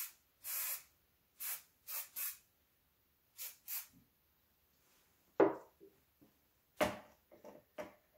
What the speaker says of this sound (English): we'll lightly mist again